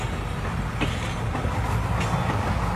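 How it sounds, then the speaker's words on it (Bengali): A train runs steadily with a continuous low rumble and rattling clatter, unbroken for the whole stretch, with no voices. "ট্রেন ছুটে চলেছে নিজস্ব গতিতে"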